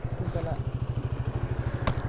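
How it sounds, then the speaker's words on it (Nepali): A motorcycle runs along the Sindhuli highway in Nepal, its engine throbbing in a steady, rapid pulse up close, with a brief sharp clatter near the end. "दाइलाई बाइक कुदाउन दिएको छु"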